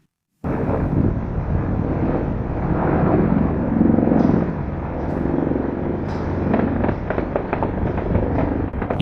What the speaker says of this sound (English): You can hear gunshots there